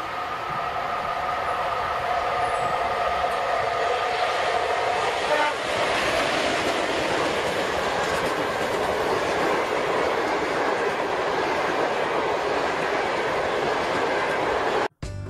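A freight train rolls along rails with a loud, steady rumble and a brief horn-like tone near the start, the wheel noise continuous until it cuts off abruptly at the end.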